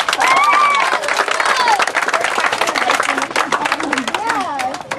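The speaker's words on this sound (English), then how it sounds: "Round of applause for yourself." Youth sports team and families clapping at an under-10 trophy ceremony, dense continuous applause with voices and a few cheers mixed in throughout.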